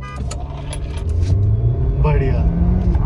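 A VW Virtus GT and a Hyundai Creta Turbo launch in a drag race, engines rising steadily in a loud close roar as one car pulls away, with people shouting over the start.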